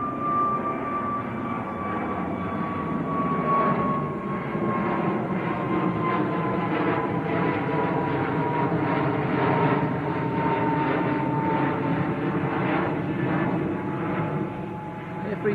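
A British Airways Airbus A321neo jet airliner bound for Heathrow at Manchester Airport gives a steady, loud engine roar with a whining tone that slowly falls in pitch, heard alone and close for the whole stretch.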